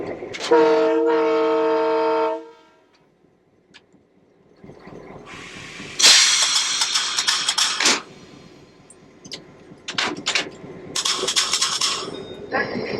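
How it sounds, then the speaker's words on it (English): EMD E5 diesel Chicago, Burlington and Quincy Zephyr locomotive heard from the cab at the Illinois Railway Museum: a loud two-second horn blast, then engine rumble with hissing air bursts and clanks. "ride on the Chicago, Burlington, and Quincy Zephyr. We wasted no time getting aboard the cab of this magnificent EMD E5 diesel."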